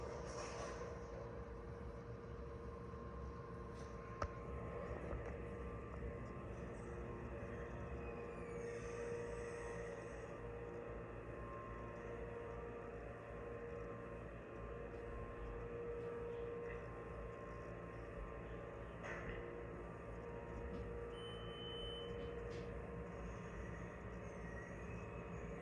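A hydraulic elevator motor at an IKEA store in Merriam, Kansas runs as a steady, loud, continuous hum and drone with a faint tonal whine, holding constant for the whole stretch with no talk.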